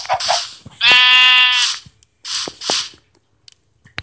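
A video game sheep bleats loudly in a long wavering cry, followed by shorter clipped bleats and faint clicks, clear and close.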